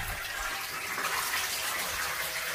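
Water running from a tap with a continuous rushing, splashing flow at close range, filling steadily without pause.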